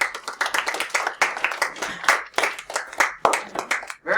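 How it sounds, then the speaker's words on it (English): Students in a high school math classroom clap by hand, a loose, uneven burst of individual claps close by that rises and dips in waves over a few seconds. "good clapping, everybody, too"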